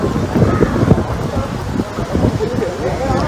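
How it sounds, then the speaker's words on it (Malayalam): Wind blowing across an open outdoor viewpoint at Netta, heard as a steady low rumble and buffeting on the microphone that continues for the whole stretch with no voices. "നല്ല കാറ്റുണ്ട് നല്ലൊരു അന്തരീക്ഷം നല്ലൊരു കാലാവസ്ഥ കേട്ടോ"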